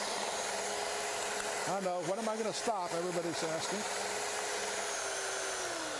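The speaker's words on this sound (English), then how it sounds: "Beaters in a glass bowl." Electric mixer beaters whir steadily in a glass bowl while strawberries are mixed in a kitchen, a loud continuous hum under a short stretch of talking near the middle.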